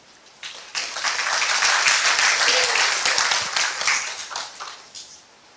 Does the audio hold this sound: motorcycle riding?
no